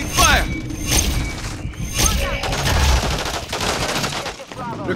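Dense, loud gunfire fills a Call of Duty Modern Warfare 3 multiplayer Invasion match, with rapid automatic bursts and booms overlapping continuously and shouted voices mixed in.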